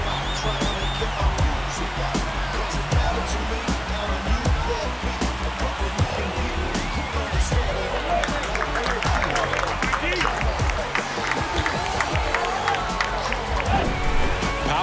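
Virtual stadium crowd in a baseball video game, Arizona Diamondbacks versus Philadelphia Phillies, roaring and applauding steadily after a home run, with a broadcast commentator talking over the noise the whole time.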